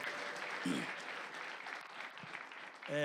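A church congregation applauds during a sermon, giving a dense, sustained burst of many hands clapping at once. It is fairly loud and continuous, with a brief voice rising near the end.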